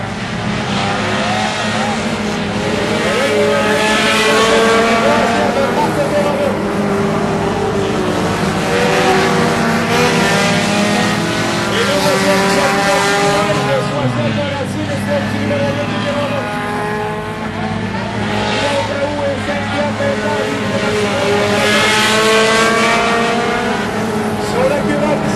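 A field of 4-cylinder stock cars roars around the track at St-Marcel, Quebec, in a 50-lap race, with engines droning continuously and cars passing close, under an excited commentator talking throughout.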